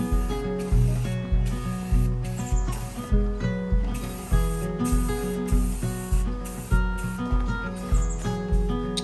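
Paint is sprayed onto steel bird yard art in a workshop, with repeated hissing bursts in a regular rhythm over a steady tonal background.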